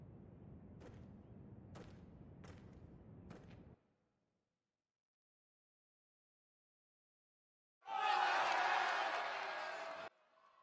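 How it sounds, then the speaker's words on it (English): Crowd cheering in a Game of Thrones video game: a stretch of rough, noisy din with sharp bangs is followed by silence, then a loud, dense roar of voices that cuts off abruptly after a couple of seconds. "Why was everyone cheering?"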